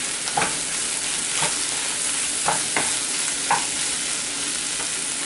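Mushrooms fry in a hot pan with turmeric powder and tomato for a spicy mushroom fry, a steady close sizzle broken by about five scraping stir strokes.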